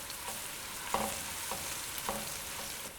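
Ginger and garlic sauté with onions in a pan, making a steady close sizzle. A spoon scrapes and stirs at intervals, with no talking.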